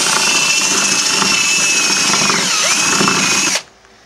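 A loud drill whirs steadily up close, enlarging a hole in thin plastic on a Vectrix electric scooter, its pitch dipping briefly under load before the motor cuts off abruptly.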